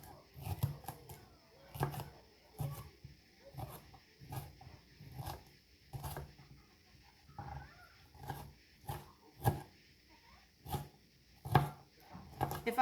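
A knife chops garden vegetables thinly on a cutting board for a breakfast quiche, giving a steady run of sharp, close knocks with short pauses between bursts.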